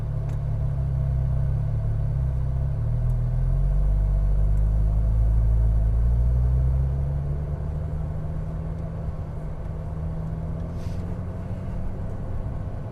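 A Porsche Cayman R set in first gear moves off onto a track with a low, steady engine rumble that swells briefly and then settles, heard from inside the car with no voices.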